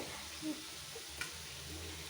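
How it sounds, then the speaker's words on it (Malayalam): A single slice of bread fries in hot oil, a soft, steady sizzle heard faintly throughout with a couple of small pops and stirring touches. "ഇതിൽ ഓരോ ബ്രെഡ് ഇട്ടിട്ടേ പൊരിക്കാൻ പറ്റുള്ളൂ"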